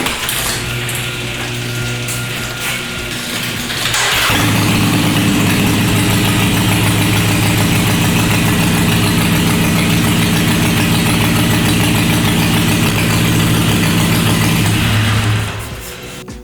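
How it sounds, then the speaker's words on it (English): A Harley-Davidson Iron 883 motorcycle engine fires up and settles into a loud, steady idle with an uneven, lumpy pulse, running alone for about twelve seconds before cutting off. "So I'm gonna open up the garage door and start the motorcycle."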